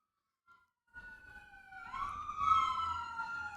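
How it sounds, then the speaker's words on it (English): Emergency sirens outside rise and sweep in wavering overlapping tones, starting faint and growing louder over a low rumble of traffic, heard from a distance with no talking. "I don't know if my mic is picking up those sirens"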